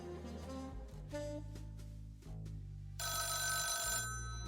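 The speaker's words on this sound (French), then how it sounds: "The telephone interrupted us." A telephone rings in the video game Coffee Noir, a bright repeated bell that grows louder near the end over a low musical bed.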